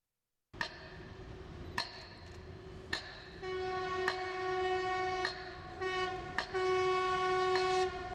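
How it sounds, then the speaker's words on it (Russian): A passing train at a disaster memorial sounds a long, steady horn over a low rumble, with sharp regular clacks about every second that intensify as it goes by. No one speaks. "словно специально разрывает проезжающий мимо поезд"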